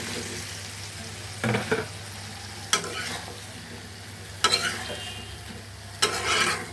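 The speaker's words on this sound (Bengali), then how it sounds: "ভালো মতন কষাই নেব।" Okra and potato stir-fry with spices in a pan, a soft continuous sizzle broken by four bursts of scraping as a spatula turns the mixture, close by and fairly quiet.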